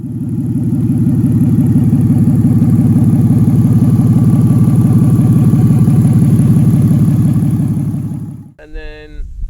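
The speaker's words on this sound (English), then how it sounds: "No manifolds, just engine, pure noise." A BMW M54 inline-six swapped into a Mazda MX5 Miata runs with no manifolds fitted, a loud, raw, steady drone that holds for over eight seconds before cutting off abruptly, followed by brief quieter sounds.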